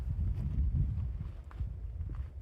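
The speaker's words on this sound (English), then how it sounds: "As we've reached higher altitude, it's much windy" Wind gusts buffet a mountain trail at high altitude in Chiricahua National Monument, a low roaring rumble hitting close in uneven surges.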